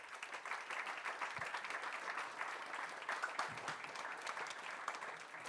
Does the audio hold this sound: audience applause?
yes